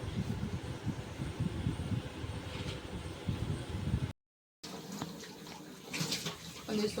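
Running water splashes steadily while plates are washed, with a brief dropout partway through, then the flow resumes, close and fairly faint.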